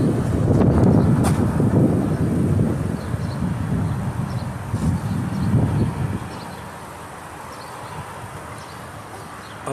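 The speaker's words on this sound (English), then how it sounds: "It's a little too windy to be spraying" Gusty outdoor wind buffets the microphone in a loud, continuous low roar for about six seconds, then eases to a quieter, steadier breeze near a house's AC unit.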